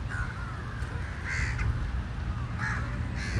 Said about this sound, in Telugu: ఈ కాకులు చూడండి ఎంత హాయిగా.